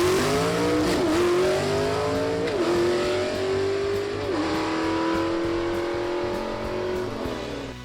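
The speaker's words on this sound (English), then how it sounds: "looks like he's just going to take the tree and get ready to take on Rainwater in the final." A gasser drag race car launches at a drag strip, its loud engine screaming upward and dipping at several quick gear shifts, sustained and close without a break.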